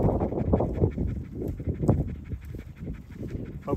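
A hunting dog pants hard and rapidly after a quail hunt, its quick, rhythmic breaths close to the microphone and continuing steadily throughout.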